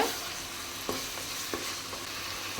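Chilli-powder masala being stirred and sautéed in a pan for an okra (vendakkai) kuzhambu, with a steady frying sizzle and a few soft spoon scrapes against the pan.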